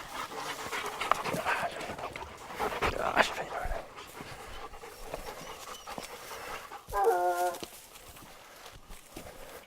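Hunting dogs on a leopard's track among deep rock crevices on safari, panting and sniffing close by, with a brief whimper and a rustling burst near the end.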